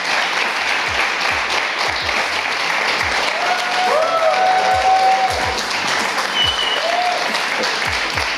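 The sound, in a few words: audience clapping at an esports event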